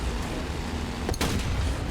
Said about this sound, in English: Shitty fucking cannon again.